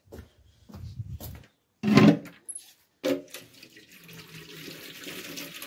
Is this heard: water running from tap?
yes